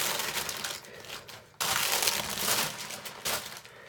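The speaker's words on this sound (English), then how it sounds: "Sorry for all the crinkling noise." Plastic package wrapping crinkles and crunches close up in irregular bursts as it is pulled open, with a short pause midway before the rustling resumes.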